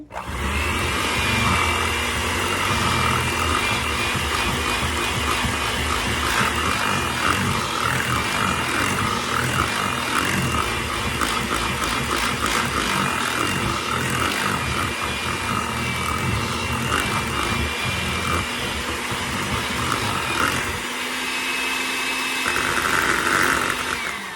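An electric mixer whirs steadily at close range, stirring pumpkin spice cake batter after evaporated milk is added, a loud continuous motor drone with a slight shift in pitch near the end and no talking.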